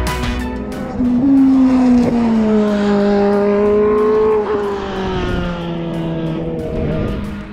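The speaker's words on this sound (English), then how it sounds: "So there's a couple GT cars out running around" GT race cars lap the Circuit of the Americas track, engines droning loudly as they pass at a moderate distance, the pitch sliding down and shifting as the cars move through the corners.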